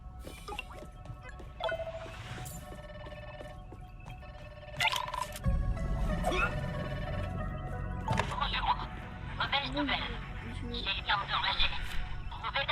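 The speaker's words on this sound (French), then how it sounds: "J'entends un téléphone sonner." A telephone rings repeatedly inside a video game, its electronic trills recurring in bursts over a busy game soundscape while people talk throughout.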